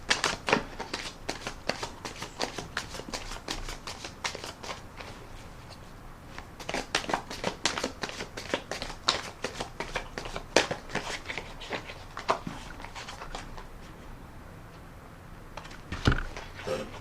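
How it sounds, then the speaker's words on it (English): A tarot deck is riffle shuffled up close in repeated bursts of crisp, fluttering card riffles, with short pauses between the bursts. "I will put another rifle and shuffle on the deck."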